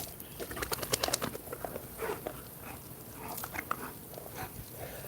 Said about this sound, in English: these are Americane da Presas